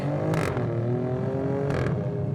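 An Alfa Romeo Stelvio Quadrifoglio V6 performance SUV engine revs with rising and falling harmonic tones, two sharp bursts marking gear changes, loud and close.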